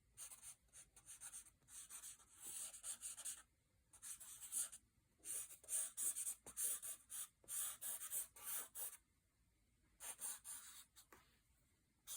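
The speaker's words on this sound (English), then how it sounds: "I'm just going in with my colored pencils and the Neocolor crayons" Colored pencils and Neocolor crayons rub and scratch across paper in close, quiet bursts of strokes, starting and stopping with short pauses, and no voices.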